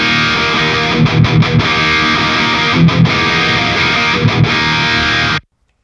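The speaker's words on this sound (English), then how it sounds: "This is how the old Captor X sounded." A distorted electric guitar amp runs through the original Captor X reactive load, playing loud, sustained high-gain chords broken by brief muted chugs, ending in a sudden cutoff to silence.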